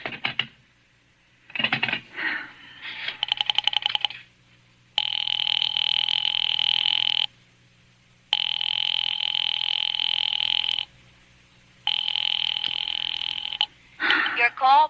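Telephone ringing in a radio drama, preceded by a rotary dial's clicking runs, then three long, loud electric rings separated by short pauses, with a voice heard briefly at the end.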